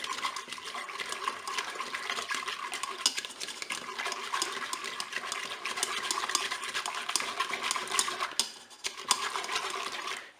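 Salmon being stirred with mustard and crème fraîche in a Cookeo multicooker, a steady wet scraping and sloshing that carries on continuously for about ten seconds at close range, with no voice over it.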